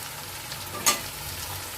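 Ground spices and Kashmiri chili powder frying in a pan, a soft steady sizzle with one brief sharp scrape of stirring midway.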